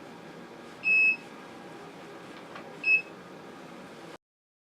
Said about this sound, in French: L'appareil avertira par un bip sonore lorsque le 5 minutes